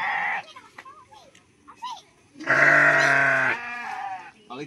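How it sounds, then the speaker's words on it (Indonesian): Sheep bleating while being herded by a man in a rural village, several short wavering bleats and one long loud cry from nearby, with faint voices in between. "Ada abah nih ya yang sedang ngangon domba."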